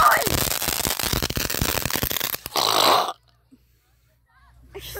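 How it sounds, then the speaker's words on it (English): A harsh, crackling hiss sprays steadily for about three seconds, like a sparking fountain, with people talking over it before it cuts to near silence. "I thought that was going to be like a big firework, but it was actually just a fountain."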